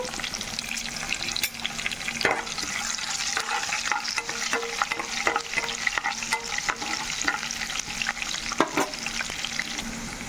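Green chillies and garlic cloves sizzle steadily in hot oil in a pan, a dense continuous frying hiss with periodic scrapes of a stirring spoon, close and loud with no talking.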